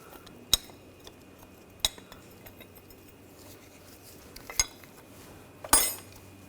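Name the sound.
removing brake caliper hanger on a BMW X5, metal clinking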